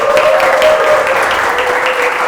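Classroom applause from students in a school lesson, a steady wash of clapping hands with a faint whistle-like tone early on, filling the moment without talk.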